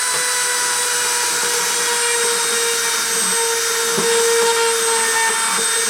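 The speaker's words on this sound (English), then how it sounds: "I'm going to start the spindle and start the deposition." A spindle spins at 30,000 RPM during deposition, a loud, continuous high-pitched whine with a steady tonal hum and faint rattling underneath, running unbroken throughout.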